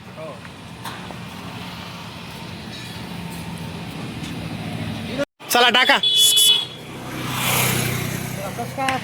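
A customer's vehicle rolls up with its engine running at a goat-selling farm, a steady low rumble under a continuous wash of noise, briefly cut off, with people talking over it afterwards.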